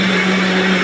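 A kitchen mixer grinder runs steadily at close range, a loud continuous motor whine and whirr that holds even throughout with no pauses and no voices.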